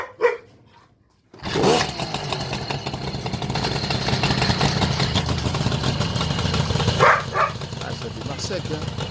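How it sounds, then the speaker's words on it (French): An MBK 51 moped's small two-stroke engine fires up after a short pause and settles into a loud, buzzing, steady run close by, with brief voices over it. "Donc je vais vous la démarrer."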